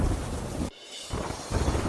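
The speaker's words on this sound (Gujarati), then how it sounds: "ધીમી ધારે મેઘરાજા વરસતા વાતાવરણ મનમોહક થયું" Rain falling in Shimla during the monsoon: a steady, fairly loud hiss that drops out briefly partway through, then resumes.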